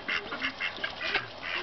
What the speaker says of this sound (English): Mama Duck with the purple feather.